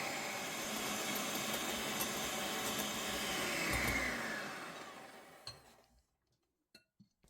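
An electric mixer whisks egg whites with a pinch of salt, a steady loud whirring drone that holds for several seconds before cutting off, followed by a few light clinks in near silence.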